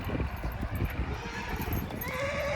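A mare neighs in a stable, a shrill whinny toward the end over low thudding and scuffling close by.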